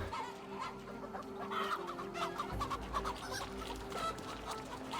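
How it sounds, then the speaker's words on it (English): Clucking chickens in Assassin's Creed Valhalla, a busy flurry of overlapping clucks and squawks with game ambience and low rumbles beneath, fairly close and continuous. "Oh, the chickens are chasing back."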